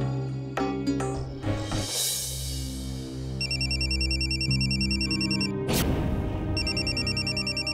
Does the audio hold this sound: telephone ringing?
yes